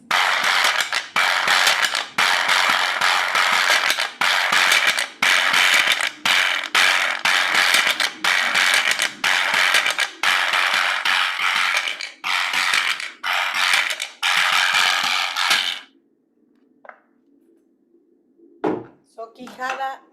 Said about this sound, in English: So quijada sounds like this.